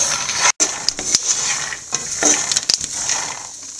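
Masala peanuts stirred in a hot pan with oil and curry leaves: steady scraping and clinking of a spoon against the pan over a soft, continuous sizzle, with no talking.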